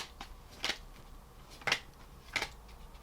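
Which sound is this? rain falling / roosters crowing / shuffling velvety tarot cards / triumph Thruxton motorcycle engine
shuffling velvety tarot cards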